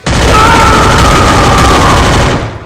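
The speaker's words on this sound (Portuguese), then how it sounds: "o vilão diz que Victor irá morrer e mete tiro para cima dele" A dense, continuous burst of loud gunfire roars for over two seconds, like sustained automatic fire with a droning whine running through it.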